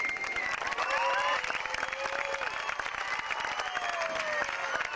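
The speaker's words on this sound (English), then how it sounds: "They deserve a round of applause." An audience at a 1992 eighth-grade graduation ceremony at Bernal Intermediate bursts into dense, steady applause mixed with whoops and whistled cheers, filling the room loudly for the full five seconds.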